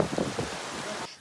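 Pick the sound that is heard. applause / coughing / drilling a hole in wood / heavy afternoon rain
heavy afternoon rain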